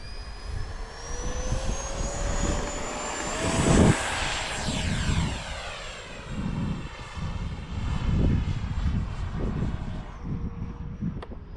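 A loud jet engine whine rises as a Freewing F-16 V3 radio-controlled model jet accelerates and takes off, roaring up close then fading slightly, with no talking.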